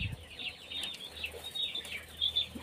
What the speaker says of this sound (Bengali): প্রায় 40 পিস মুরগি হয়েছে।